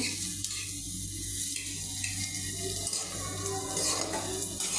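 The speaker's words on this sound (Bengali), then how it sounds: "ডিম দিয়ে চিচিঙ্গা ভাজি।" Snake gourd and egg fry in a pan with a faint, steady sizzle, and light scraping and clinking of a utensil stirring at a moderate distance.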